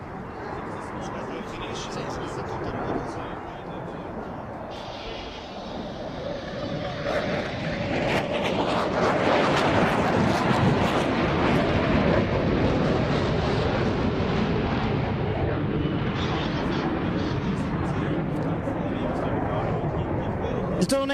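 An Italian Air Force Tornado IDS of 311º Gruppo flies with full afterburner at the Cosford Air Show. A loud, continuous roar swells after about seven seconds and stays heavy and steady to the end.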